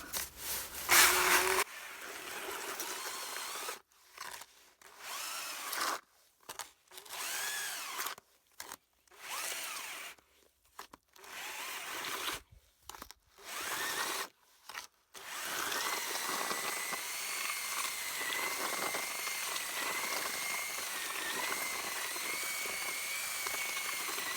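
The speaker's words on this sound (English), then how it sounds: "just to make sure it's really well mixed, I've got this contraption on the end of the drill." A power drill with a mixing paddle mixing pointing mortar for stone walls whirs in bursts, stopping and starting repeatedly, then runs steadily for a long stretch, loud and close.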